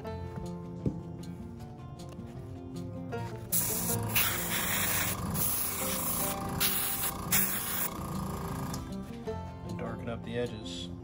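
Airbrush spraying black leather dye onto a leather test piece, a steady close hiss that starts about halfway through and runs in bursts, with music playing throughout and voices talking.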